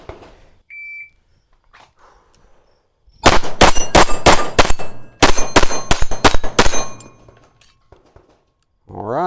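A Lionheart Vulcan 9 handgun fires Sierra hollow point rounds in two loud, close rapid strings of about five and six shots, separated by a short pause, with no talk over them.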